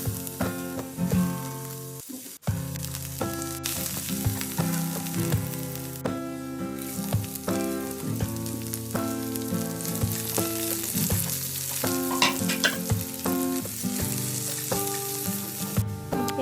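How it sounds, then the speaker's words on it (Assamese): Potatoes fry in a pan with freshly chopped ingredients, giving a steady, close sizzle throughout with scraping and stirring clatter, a brief pause early on, and no talk. "এতিয়া আমি কাটি লোৱা ইনগ্ৰেডিয়েন্টছখিনি দি আলুখিনি ফ্ৰাই কৰি ল'ম।"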